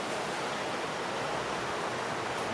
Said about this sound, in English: it looks like there's a little waterfall over there